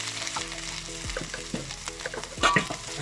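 Garlic and ginger paste frying in a pan, a soft steady sizzle with close stirring scrapes and taps of a utensil against the pan.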